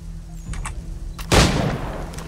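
A loud gunshot in the video game Assassin's Creed 3 cracks out after a low background hum, its blast trailing into a rumbling echo.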